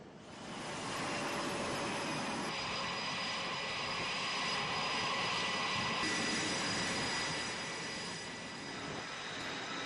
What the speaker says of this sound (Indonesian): Jet tempur terbang dari landasan pacu kapal induk Amerika Serikat USS Abraham Lincoln.